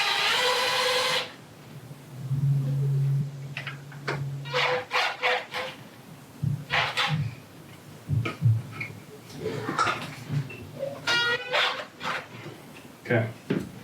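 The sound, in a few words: retightening gun rack bolts from the back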